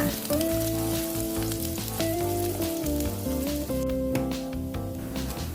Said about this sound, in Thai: เมื่อเจียวกระเทียมจนหอมแล้ว